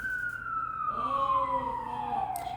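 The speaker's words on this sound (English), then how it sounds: "I'm waiting for the sirens to go by." A siren wails past, its tone sliding steadily downward as the vehicle moves away, with traffic rumble underneath and no talking.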